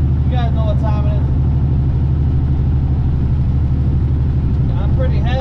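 A heavily loaded semi truck, close to 80,000 pounds, labours up the Grapevine grade past Castaic, California, at about 35 mph and just under 1,500 RPM. Its engine drones steadily and loudly throughout, with a voice talking over it.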